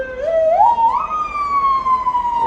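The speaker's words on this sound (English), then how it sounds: "There goes the ambulance" An ambulance siren on a Yerevan street wails loud and close, its pitch rising then holding in a long sustained tone with no voices.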